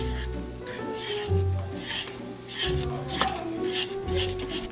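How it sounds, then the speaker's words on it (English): Gravy being stirred in a pan on the stove, with a soft continuous sizzle and repeated scraping strokes of a utensil against the pan, close and moderately quiet. "now we gotta keep stirring this gravy"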